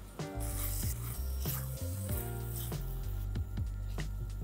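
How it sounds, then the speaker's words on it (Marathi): A spoon stirs a tamarind pulp and jaggery mixture in a pan, giving a soft, close scraping and squelching sizzle that repeats steadily while a low background tone hums beneath. "चांगलं मिक्स करूया."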